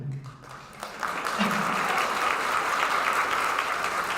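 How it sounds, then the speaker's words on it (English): Members at a Daughters of the American Revolution district meeting in Corydon, Indiana break into applause, with a brief voice at the start, then steady, even clapping from a room full of people. "You start the applause."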